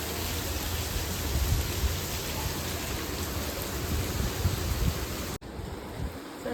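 Steady, heavy rain pours down continuously, a dense wash of noise with no pauses, briefly cutting out near the end before resuming.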